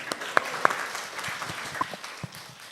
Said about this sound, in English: Give an applause for him.